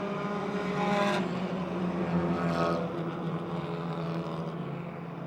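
Race cars roar around the Motordrome Speedway oval during a 2010 race, with a loud, continuous engine drone that swells as cars sweep past twice before easing, and no talk.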